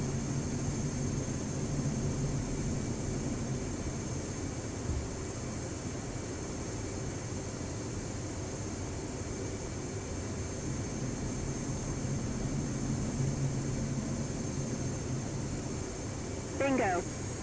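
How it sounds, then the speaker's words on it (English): A jet in the DCS flight simulator descending toward the runway to land, its steady engine drone and airflow roar holding constant throughout, with a short warning tone near the end and speech over the top. "Continue flying in this manner until the aircraft touches down on the runway."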